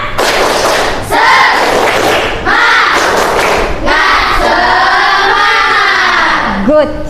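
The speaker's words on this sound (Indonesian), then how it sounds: "Tepuk semangat." A primary school class doing a rhythmic spirit clap, loud group claps and thumps in bursts mixed with children chanting and shouting together, ending in a sharp shout.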